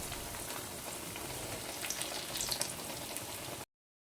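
Bread slices frying in hot oil for masala toast, a steady close sizzle and crackle with no talk, cutting off abruptly at the end.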